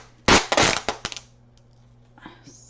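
Packing tape tears off the spool near the mic, a burst of loud crackling rips that fade into a few quick snaps. A softer scrape follows at the end, with no talking.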